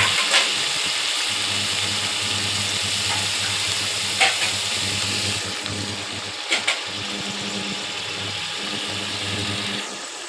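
Powdered spices frying in a pan with a splash of water for an egg and soya chunk curry, a loud continuous sizzle with a low steady hum beneath and a few scraping knocks, easing slightly toward the end.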